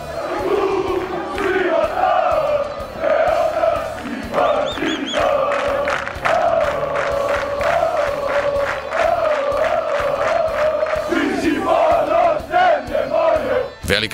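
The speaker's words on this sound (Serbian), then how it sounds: "Navijanje." A large crowd of Partizan football supporters chants loudly and rhythmically in Mostar, voices rising and falling in unison with sharp clapping beats and bursts of cheering.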